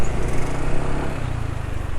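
A motorcycle engine runs on Repsol Moto 4T super oil after 39 km of use, with a reported rough, coarse engine note. It gives a loud, close, steady rumbling idle with a rapid low pulse and no talking.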